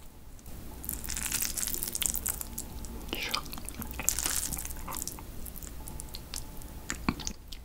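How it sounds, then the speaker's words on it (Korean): Close-up eating of grilled pork galbi with spicy cold bibim naengmyeon noodles, with soft wet chewing, squishing and slurping sounds running steadily through the whole stretch, intimate and quiet with no talking. "고기랑 비냉이랑 같이 먹어보겠습니다."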